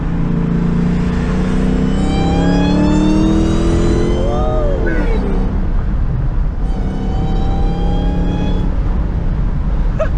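Dodge Challenger Hellcat fitted with a K&N Typhoon cold air intake, its supercharger whine rising and falling in pitch with the revs at low RPM over a loud, steady engine roar while driving.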